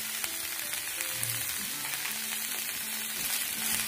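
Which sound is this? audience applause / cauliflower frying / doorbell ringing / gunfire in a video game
cauliflower frying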